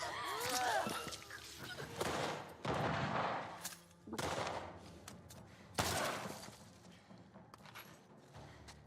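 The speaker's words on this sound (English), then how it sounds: "Get the shotgun burst." Shotgun bursts fire in a video game, several loud cracking blasts spaced a second or so apart, each with a sharp attack and a ringing decay, with a voice faintly underneath.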